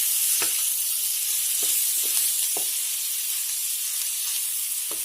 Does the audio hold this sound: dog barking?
no